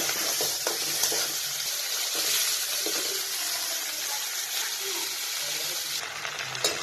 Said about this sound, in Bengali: তাই আগে চিংড়িটা তেলে ভেজে নিচ্ছি।